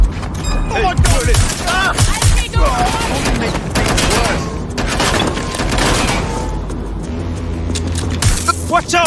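Gunfire in Watch Dogs Legion: a busy stretch of rapid shots and bursts with booming impacts, set among vehicle and mechanical noise and overlapping in-game voices.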